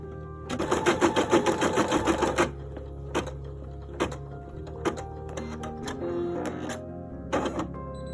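A Brother M240ED embroidery machine stitches in a rapid, loud mechanical whirring burst, then pauses and gives several scattered clicks and short stitching runs nearby.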